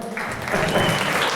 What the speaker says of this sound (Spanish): Le damos un aplauso a la Teresa, por favor.